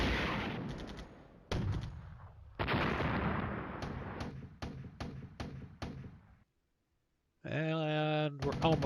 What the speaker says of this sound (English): Shooting at those guys on the bridge.